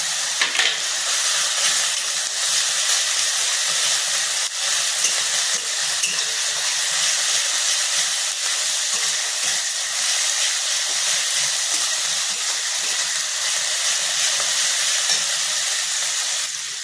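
Ginger-garlic paste hits hot oil in a pan while cooking Bengali rui posto fish curry, giving a loud, continuous bright sizzle and hiss that stays steady throughout with no talking.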